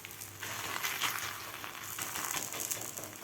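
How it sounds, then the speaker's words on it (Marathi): Dahi dhapate flatbread frying with oil on a hot tava, a steady close hiss and sizzle with crackling bursts, no talking. "धपाटं थापून घेतलेलं आहे, तव्यावर घालून घेऊया."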